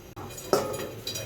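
A lid set over a cooking pot while flour and coconut pitha dough cooks: one close metallic clank with a short ringing tail, followed by a fainter tap, over a soft kitchen hum.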